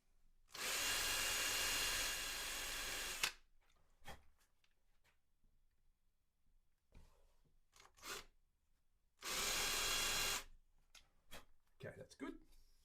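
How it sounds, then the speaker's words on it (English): A power drill driving into a fibreboard workpiece runs in two loud sustained bursts a few seconds apart, with quieter handling knocks and scrapes between them. "Helps if the drill doesn't loosen up."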